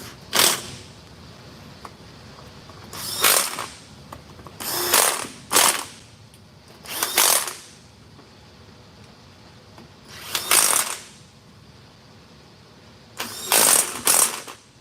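Repeated bursts of rapid ratchet clicking while tightening 13 mm bolts, about seven separate runs spaced by short pauses, close and fairly loud.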